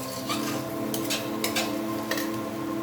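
Spoon stirring boiled-down tomatoes in a cooking pot for Bengali-style home-cooked chicken curry, a few soft scraping clinks spread over a few seconds against a steady low hum, without talk.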